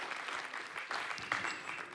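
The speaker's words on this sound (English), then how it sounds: "So let's give them a round of applause." A crowd claps steadily, a dense patter of applause at moderate distance, with no voices over it.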